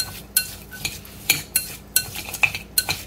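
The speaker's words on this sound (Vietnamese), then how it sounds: "Rồi mình trộn đều lên." Diced water chestnut being stirred with a few drops of food coloring in a bowl, giving a series of close, sharp scraping and clinking strokes at a steady rhythm with quiet pauses between.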